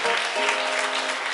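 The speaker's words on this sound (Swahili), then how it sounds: "Piga makofi na vigelegele kwa Catherine." A congregation at a church service honouring pupils claps for a student, a brief burst of dense applause with high ululating cries riding over it, moderately near.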